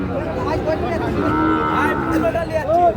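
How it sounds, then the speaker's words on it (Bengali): Bullocks at a busy cattle market low and moo repeatedly, near and fairly loud, over a steady crowd murmur with no clear talk in the foreground. "এ পাশে কিন্তু বলদ গরু ভরপুর"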